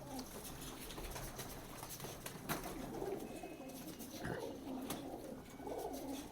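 A pigeon coos in soft, low repeated calls on a high rooftop loft in Prayagraj, Allahabad, heard against steady outdoor background noise.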